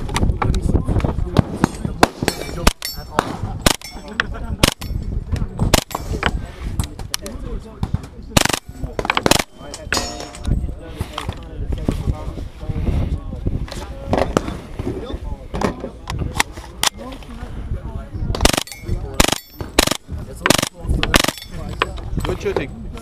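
Bursts of full-auto gunfire from KRISS weapons at an outdoor shooting range, sharp rapid cracks in clusters with pauses between, mixed with scattered single shots and some voices in the background.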